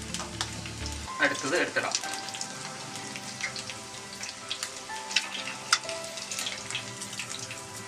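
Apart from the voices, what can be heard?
eggs frying in oil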